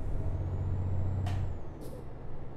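Volvo FH16 750 truck in Euro Truck Simulator, slowing for a tight S-bend, gives two short sharp air-brake hisses over a low steady engine hum.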